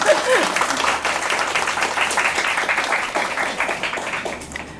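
An audience at a picture-book author's talk claps steadily, a close, even wash of many hands sustained throughout with a brief voice at the start.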